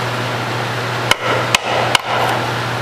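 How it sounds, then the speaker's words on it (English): A hammer drives a rear differential seal home through a block of wood, three sharp, close thuds spaced about half a second apart over a steady hum. "If you don't have one, you use a piece of wood and a hammer and be really seat it with the wood."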